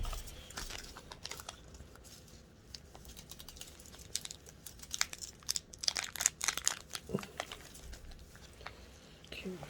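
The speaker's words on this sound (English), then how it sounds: "Okay, so I'm gonna open the package right now." A dissection specimen package for a biology lab being torn open, close and quiet, with crinkling plastic, tearing and scattered rustles and clicks.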